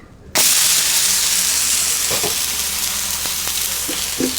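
Moong dal uttapam sizzling loudly on a hot pan just after being flipped, a sudden burst of dense frying hiss that holds steady, with a few faint spatula taps.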